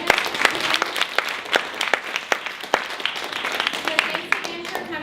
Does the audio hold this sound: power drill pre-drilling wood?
no